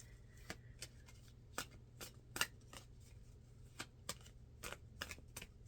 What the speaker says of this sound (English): I'll get one more card from this deck, and I'm gonna call it a night.